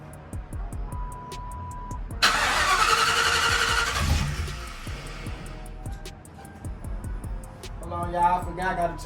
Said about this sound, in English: let's crank up again, y'all